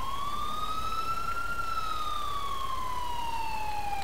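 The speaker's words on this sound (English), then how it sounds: "There's my new ambulance mod." A single wailing ambulance siren in GTA IV, from an international ambulance mod, rises and then slowly falls in pitch, steady and fairly close, with a faint background hiss and no voices.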